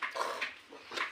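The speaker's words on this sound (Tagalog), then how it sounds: "Tumatahol na." A dog gives a few short, close barks and whimpering yips in quick succession over about a second.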